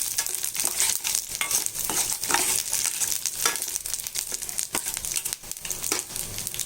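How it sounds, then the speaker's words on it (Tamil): Garlic cloves, ginger and dry red chillies fry in a pan for tomato chutney, a steady close sizzle with scraping stirs and scattered crackles, no voices heard. "பூண்டு ஒரு ஆறு ஏழு பல்லு பூண்டு போட்டுக்கலாம் கொஞ்சம் இஞ்சி போட்டுடலாம் ரெண்டு வரமிளகாய் போட்டு இதை நல்லா வறுத்துக்கலாம்"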